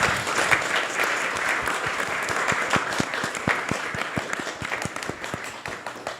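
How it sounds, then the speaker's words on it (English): An audience at an ISKCON temple gathering in Silicon Valley applauds, a dense wash of clapping that thins toward the end into distinct individual claps. "Please give a big round of applause."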